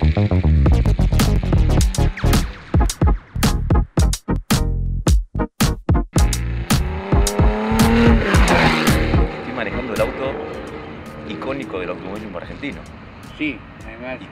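A Berta Tornado Formula 1 race car at the Buenos Aires autodrome screams close by, with sharp, rapid revs and throttle blips that rise into a sustained howl, then fade into a distant drone.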